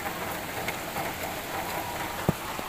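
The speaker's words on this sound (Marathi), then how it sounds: "आता तर खूप वाढला आहे पाऊस, किती वाढला आहे आता पाऊस" Heavy monsoon rain in Mumbai pours down in a dense, steady wash of noise with one faint sharper drop, no voices.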